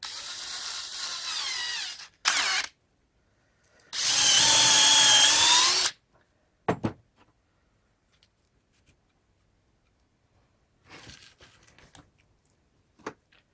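A power drill bores into a reclaimed wood log in a yard while a log snowman is being built, whining in several separate bursts of different lengths with quiet pauses between them.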